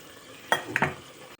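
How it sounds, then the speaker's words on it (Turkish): Mushrooms sautéing in a home kitchen pan: a quiet steady sizzle with two or three sharp clinks of a utensil stirring against the pan, heard close and without talk. "Mantarlarım kavruluyor."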